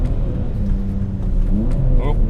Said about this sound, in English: Oop, over-revved it there.